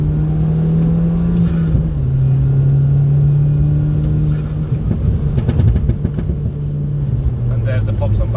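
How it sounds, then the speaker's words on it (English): A VW Golf Mk5 GTI tuned to 270 bhp accelerating hard in third gear on a motorway, a loud steady engine drone rising gradually in pitch with road rumble underneath. "I'm going to drive it on the motorway and let you guys listen to the engine"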